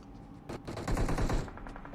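Gunfire in a PUBG Mobile esports match, a rapid burst of automatic shots rattling for about a second amid dense layered reports, fairly loud and close with no talk over it.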